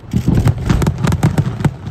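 Loud pre-race explosions boom at an IndyCar night race, a rapid, irregular volley of close bursts like fireworks just before the green flag.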